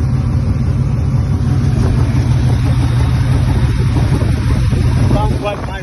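A 2-litre rear-mounted car engine idles in Dubai, a loud, steady low rumble held close for several seconds, with no break in the drone.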